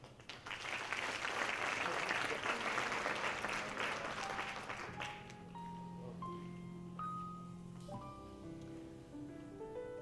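A conference audience applauds to welcome a keynote speaker, with dense, steady clapping that tapers off halfway through as soft background music rises.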